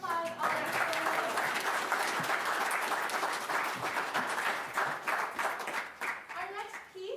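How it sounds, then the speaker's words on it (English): Concert audience applauds soloists at a college music department performance, sustained crowd clapping throughout with some voices mixed in. "Can we give them one more round of applause?"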